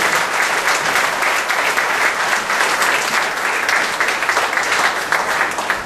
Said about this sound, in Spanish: dale el mejor de los aplausos al Señor